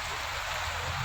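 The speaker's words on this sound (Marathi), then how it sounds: "बापरे, लय मोठा पाऊस आहे, लय मोठा." Heavy rain pours down outdoors in a steady, dense hiss that stays even and loud for the whole moment, with water pooling nearby and no voices.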